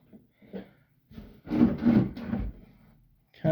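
A sticking storage door in a Hemlock Farms house is pulled open with a dragging wooden scrape and rub lasting about a second, close by, after a few faint knocks.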